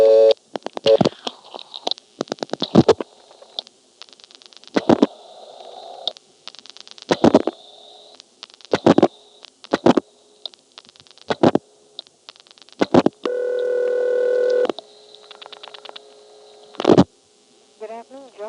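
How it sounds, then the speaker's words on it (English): Tones from a 1975 independent step-by-step telephone exchange in Marshfield, Vermont: repeated short tone bursts and clicks separated by silences, a longer buzzing tone near the middle, with a voice speaking at points between them. "Looks like ringback gave up."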